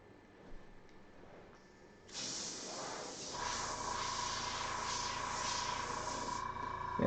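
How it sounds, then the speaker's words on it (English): Airbrush spraying paint onto a Ford F100 panel during pinstripe-style rendering, a steady close hiss that starts abruptly after a quiet stretch and holds continuously for several seconds. "Airbrush is only putting up a little bit of a fight"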